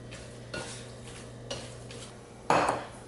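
Granola ingredients tossed with cinnamon in a bowl, giving soft scraping and clinking stir strokes at a slow, uneven pace, with a louder clatter near the end; no talking.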